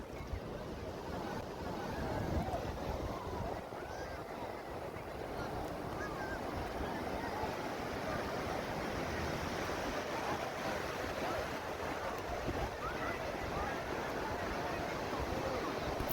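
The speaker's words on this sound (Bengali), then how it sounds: "সমুদ্রের শব্দ শুনতে পাচ্ছেন" Sea waves wash steadily onto the shore in a continuous broadband roar, with wind buffeting the microphone throughout and no clear breaks between surges.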